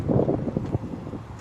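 Low, rumbling wind buffeting the microphone beside an Acura RDX SH-AWD A-Spec, gusty and uneven, loudest at the start and then easing slightly.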